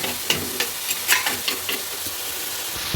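Spinach stir-fry (cheera thoran) with onion and green chilli being stirred in a pan, a steady sizzle broken by scraping spatula strokes at an uneven pace, close and alone.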